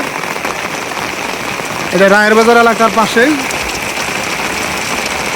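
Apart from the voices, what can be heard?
heavy rain falling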